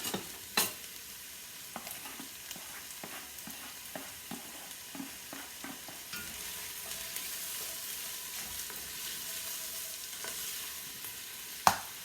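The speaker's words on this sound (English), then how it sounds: "Then I'm going to add my chopped onion and saute that first." Chopped onion sautéing in extra virgin olive oil in a pan, a steady soft sizzle with scattered stirring clicks and a couple of sharper knocks, close and moderate, without speech.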